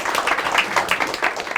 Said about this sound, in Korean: 이런 멋진 플랫폼 만들어주신 방수진 대표님한테 박수 한번 부탁드립니다